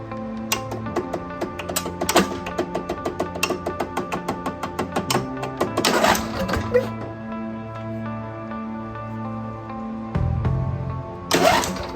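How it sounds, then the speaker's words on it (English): A hammer taps the starter solenoid of a Cub Cadet tractor, producing a quick run of close, sharp metallic clicks over a steady mechanical hum, followed by a few louder knocks. "So let's go tap that solenoid a little bit."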